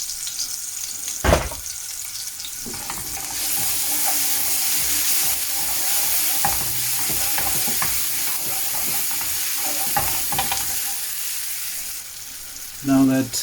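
Bonus gravy and rogan go into a hot pan for hotel-style matar paneer, a sudden loud splash that settles into a long, steady sizzle with occasional scrapes and a clatter at the end.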